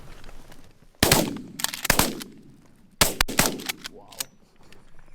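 Shotguns fire during a Wisconsin goose hunt, several loud, sharp blasts in two quick bursts about two seconds apart, each followed by a short echo outdoors.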